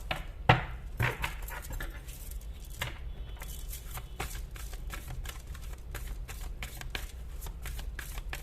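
Tarot cards being shuffled close up, with a steady run of crisp riffling flutters and light slaps continuing for the whole stretch at moderate volume.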